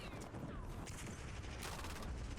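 Rapid automatic gunfire from the LADRA weapon in a video game sounds dense and continuous, with bursts that blend into a busy, noisy mix of shots and game sounds at moderate loudness.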